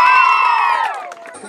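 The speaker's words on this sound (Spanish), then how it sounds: "Grito y aplauso para ella." A festive crowd at an outdoor afternoon gathering lets out a loud, high shout of cheering, bright and sustained at first, then fading quickly within about a second.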